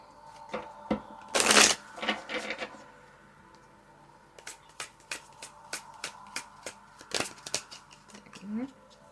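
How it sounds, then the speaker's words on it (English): A deck of tarot cards gets shuffled, with one loud riffling burst early on and then a run of sharp, evenly spaced card snaps and taps, close to the mic in a quiet room. "Okay, let me shuffle again."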